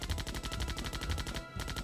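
Rapid, evenly spaced weapon shots fire in a steady burst from a zombie shooter video game, with a brief gap near the end before the firing resumes.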